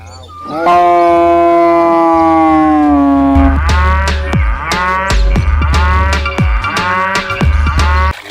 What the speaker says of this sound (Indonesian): Kita menemukan kerbau.